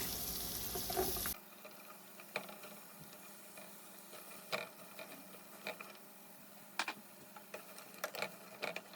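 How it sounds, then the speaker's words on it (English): Onions, about 10 ounces and cut into half moons, fry in butter in a pan. After a brief loud burst at the start comes a steady low sizzle with scattered crackles and pops, and no voices. "to our butter, we are going to add our 2 onions"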